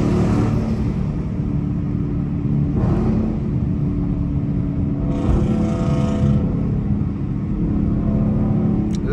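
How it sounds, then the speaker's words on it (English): A V6 Mustang's exhaust rumbles loud and raspy in passing traffic, a sustained low drone with a few swelling surges. "That bitch sound raspy as hell, y'all. That sound like a gutter V6."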